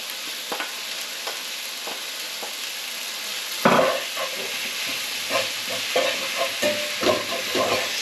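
Garlic, salt, pepper and smoked paprika stirred into a pot for a Basque marmitako fish stew: a steady background sizzle and hiss, then from midway a burst of scraping spoon strokes and knocks against the pot.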